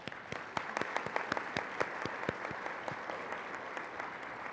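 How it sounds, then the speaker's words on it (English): Scattered audience clapping at an American Legion Auxiliary convention, a modest, even patter of hands heard from a distance with no voices over it. "Please join me in giving her a round of applause."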